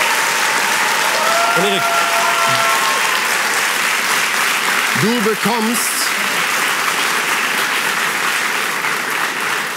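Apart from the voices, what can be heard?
applause from an audience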